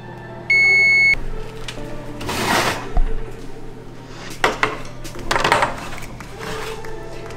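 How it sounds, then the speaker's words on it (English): Popcorn in an oven being stirred: a beep sounds from the oven, followed by two bursts of rustling and scraping of kernels in a pan, with clanks of the pan and door between them, close and fairly loud. "I'm going to take the popcorn and I'm going to stir it"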